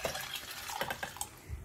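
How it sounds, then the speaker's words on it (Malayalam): Water poured into a glass while making lime juice, a faint, brief splashing and trickling of liquid lasting under two seconds, close by and quiet with no talking. "കുറച്ച് വെള്ളം ഒഴിക്കുക,"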